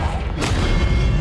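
A Confringo fire spell explodes in Hogwarts Legacy on Nintendo Switch: one short, booming burst that swells and fades over a dense, continuous bed of game sound.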